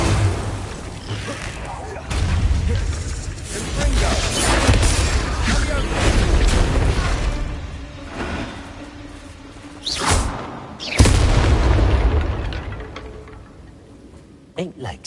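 Bombarda blasting spells go off in a Hogwarts Legacy fight, a run of heavy booms and crashing impacts with whooshes and a sharp burst near the end, with game voices and shouted combat calls in between.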